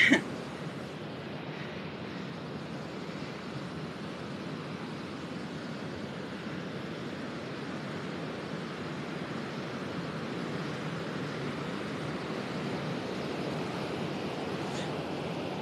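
The flooding Mistassibi River at the falls near Dolbeau-Mistassini, Québec, churns through big boiling rapids as a dense, steady roar of rushing water that fills the whole stretch with no break.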